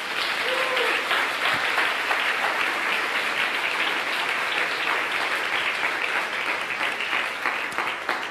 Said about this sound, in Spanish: Dense un aplauso